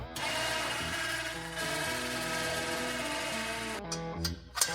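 An electric winch on a homemade all-electric snow blower winds out with a steady, close motor whine that holds for about four seconds, then stutters and cuts off in a few short, uneven bursts.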